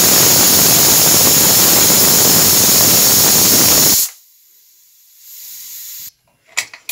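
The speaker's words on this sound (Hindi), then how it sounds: "और कुकर बंद कर देते हैं और एक सीटी लगवाते हैं।" A pressure cooker cooking sweet carrot rice lets out a loud, steady whistle and hiss of escaping steam for about four seconds, then cuts off sharply, followed by quiet and a few faint clinks.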